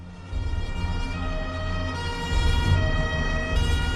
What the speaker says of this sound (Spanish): se oyeron las sirenas de los coches de policía resonando por las calles de Palermo